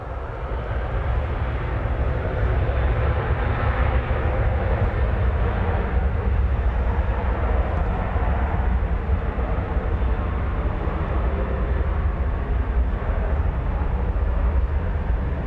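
An American Airlines Boeing 737-800 bound for McAllen, Texas at DFW Airport, a loud sustained jet engine roar with deep rumble, holding steady and close, no talk over it.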